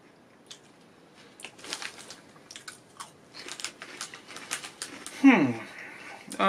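Salt and vinegar Quavers crisps being eaten, crisp bites and crunchy chewing at close range in an irregular series, with some low talk mixed in.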